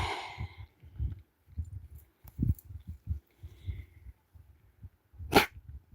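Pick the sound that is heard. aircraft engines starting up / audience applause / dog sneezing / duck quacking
dog sneezing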